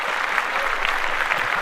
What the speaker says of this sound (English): So we want to clap that up again for the young people.